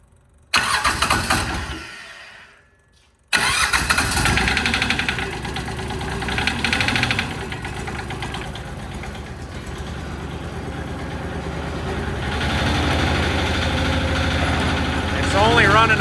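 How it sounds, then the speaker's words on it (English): Engine on a homemade vertical log splitter, misfiring on only two cylinders and low on power, starts with a brief roar, dips near silence, then catches and runs loud and rough with a knocking idle throughout. "It's only running on 2, so it's kind of, yeah, it's kind of low on power."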